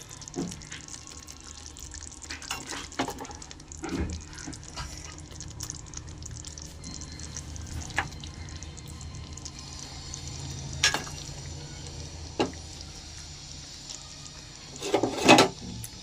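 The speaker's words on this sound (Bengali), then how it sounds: "এবার আমি দিয়ে দেবো এর ভিতরে একে একে ভাজা মাংসগুলো।" Fried chicken pieces dropped one by one into hot oil in a pan for chicken chaap, a low continuous sizzle punctuated by soft clunks and scrapes, with a brief louder burst of clatter near the end.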